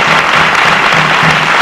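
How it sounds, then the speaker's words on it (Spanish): Dense studio audience applause on a Spanish television talk show, loud and steady clapping filling the whole moment with no talk over it. "Vamos a darle un aplauso a Luis."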